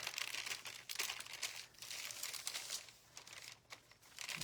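Plastic wrap being peeled back off a piece of wood after a decoupage transfer, soft crinkling and crackling that comes in uneven bursts, close and faint, with no voices.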